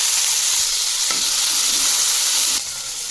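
Green tomatoes drop into hot oil already holding cumin, garlic and green chillies, giving a loud, steady close-up sizzle for a few seconds that eases slightly near the end, with no talking.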